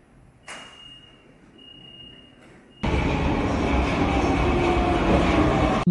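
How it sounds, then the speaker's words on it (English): A subway train roars in suddenly and loudly after a few seconds of quieter hum with a faint high whine, then keeps rumbling steadily. "Subway."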